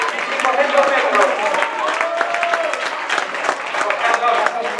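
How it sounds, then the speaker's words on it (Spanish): Spectators at a Galician athletics festival applaud a race winner, a steady crowd clapping at moderate distance beneath a loud announcer speaking over a public address. "vamos a recibir un poco más fuerte aplauso a Carlos Porto"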